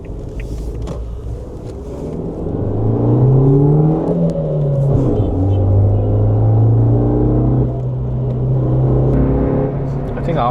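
A remapped Suzuki Jimny engine pulls in traffic, its tone climbing steadily then dropping as it shifts and climbs again, loud and close inside the cabin with some quiet talk.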